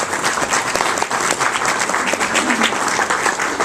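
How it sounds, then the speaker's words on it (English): Steady applause from a room of business people honoring chamber of commerce staff, dense and continuous clapping at close range for a few seconds, with faint voices mixed in. "Let's give them a round of applause."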